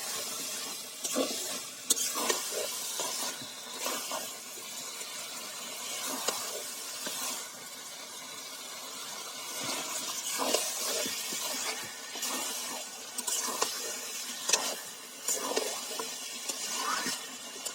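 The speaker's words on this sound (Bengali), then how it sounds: "এখন এর মধ্যে দিয়ে দেব মাংস। মাংসটা দিয়ে ভালো মতো কষাবো।" Steady sizzling and bubbling of native country chicken frying in spice paste in a pan, with occasional stirring scrapes, fairly close and continuous, no talking.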